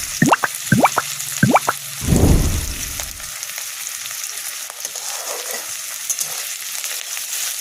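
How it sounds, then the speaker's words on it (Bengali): Whole garlic cloves go into hot oil for a soybean curry. A few short squeaky clinks come first, then a burst of crackling as the garlic hits the oil, settling into a steady sizzle. "তারপর এর মধ্যে দেবো আমি কিছু গোটা রসুন"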